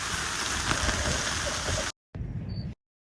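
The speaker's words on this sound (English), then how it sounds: "Start raining." Dense, steady patter of rain drumming on a solo camping tent close overhead in the Caribbean, cutting off abruptly, then a short quieter burst before silence.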